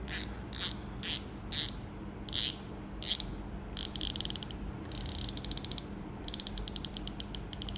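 A new 2020 Shimano Twin Power fishing reel clicks close up: several short ratcheting bursts, then longer runs of rapid, crisp clicks with nothing else heard.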